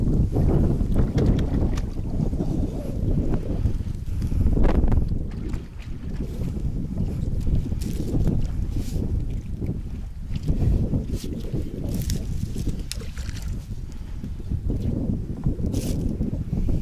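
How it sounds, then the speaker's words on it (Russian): Strong wind buffets foam-covered microphones at a riverside fishing spot, a steady loud low roar with gusty surges throughout and no voices. "Вот эти сильные ветра, уже сил нет, надоели."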